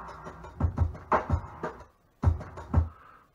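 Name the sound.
drum break sampled from a funk record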